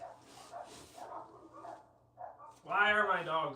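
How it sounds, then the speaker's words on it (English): Dogs on a farm bark a few times at moderate distance, with yips between muffled background voices, ending in a louder burst of barking near the end. "Why are my dogs barking?"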